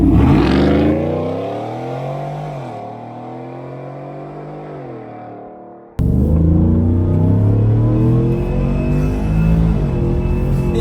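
A supercharged V8 pickup truck engine revs and pulls hard, its deep rumble rising and falling through gear changes, loud and close with a sudden jump in intensity midway.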